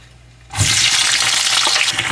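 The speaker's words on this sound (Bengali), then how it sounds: "এবার আমি পেঁয়াজ দিচ্ছি" Onions tipped into hot oil seasoned with nigella seeds and dried chillies burst into a loud, sudden sizzle that continues as a dense crackling hiss.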